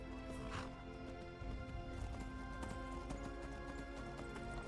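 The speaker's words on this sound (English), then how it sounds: "Get on the horse." Horse hooves clip-clop steadily over a dense, layered soundscape in Skyrim, with a brief whinny near the start.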